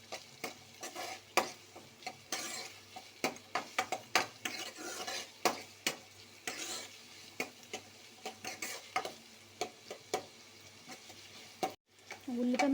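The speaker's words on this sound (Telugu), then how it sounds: "ఉల్లిపాయ ముక్కలు వేగిపోయినాయండి." Onion pieces fry in a pan with turmeric for papaya curry, with repeated scraping stirs of a utensil against the pan over a soft, quiet sizzle, close by.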